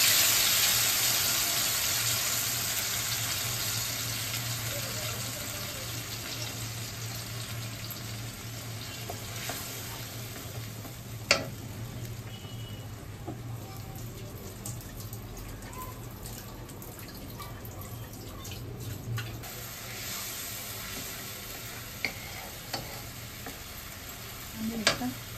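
A spice paste of turmeric, salt and chopped tomato mixed with water goes into hot oil and sizzles hard at first, then settles into a steady, moderately loud fry with occasional clicks and clinks and no one talking.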